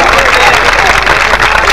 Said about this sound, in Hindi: जोरदार उनकी उस टीवी के लिए, उस चैनल के लिए जोरदार तालियां बजाइए।